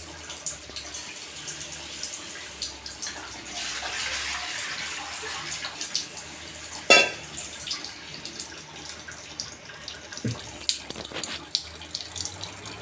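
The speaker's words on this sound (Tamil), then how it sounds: "தண்ணி ஊற்றிக்குவோம்." Tap water runs steadily into a cooking pot at the stove while cabbage poriyal is being made, a continuous splashing fill at close range with a brief clatter partway through.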